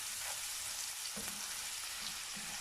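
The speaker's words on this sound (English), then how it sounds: "So just fry your onions like so, and make it saute until it's transparent" Onions fry in a pan, a soft, steady sizzle with a few faint stirring knocks.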